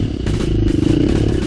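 A Husqvarna FE350 dirt bike works through a tight technical trail, its engine a loud, close, throbbing drone with clattering and scraping as it picks through the terrain.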